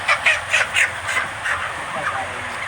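Young poultry chicks on a farm, about 52 days old, give several rapid, fairly loud cheeping calls close by, with a steady hum of farm background beneath and no talk over them.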